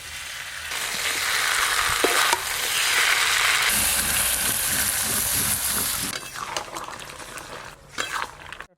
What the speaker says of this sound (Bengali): এবার মশলা আর সব ভেজে রাখা সবজি একসঙ্গে একটু ভালো করে কষে নিই